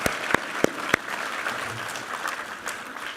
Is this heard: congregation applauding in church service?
yes